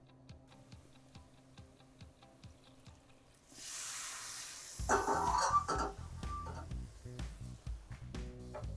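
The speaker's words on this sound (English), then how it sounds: "I can hear the risotto rice slightly sizzling, which is good" Risotto rice toasting in a pan before chicken stock is added, a soft sizzle under a steady ticking, then a louder burst of hissing and frying with stirring clatter.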